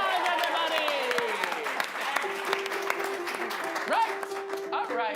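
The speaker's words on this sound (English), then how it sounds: "And give him a round of applause" Audience applause at a main stage show, with scattered clapping and crowd noise under voices and whoops, plus tonal stage sounds sliding through.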